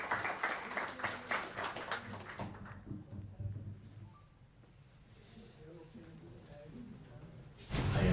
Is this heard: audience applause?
yes